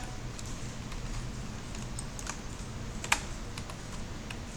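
Typing text on a computer keyboard during a design class, a steady scatter of light, close key clicks with one louder tap, over a low room hum and without talk.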